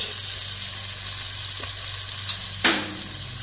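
Tomatoes with salt sizzle in a pan over a high flame, making a loud, steady hiss close by, with a brief scrape of stirring near the end.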